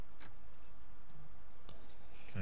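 Keys jangle in The Last of Us Part II, a few light metallic jingles and clinks scattered over a low, steady game-world ambience with no talk.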